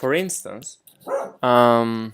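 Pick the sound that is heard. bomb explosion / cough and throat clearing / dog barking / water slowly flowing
dog barking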